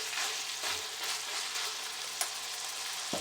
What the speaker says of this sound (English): now we're going to let this all fry nice together